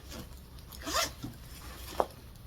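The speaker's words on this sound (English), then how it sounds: "And it has two zippers." A zipper on the front pocket of a crossbody bag with sparkly snap trim is pulled open in one quick rasping run, close and fairly quiet, followed by a small click of the pull.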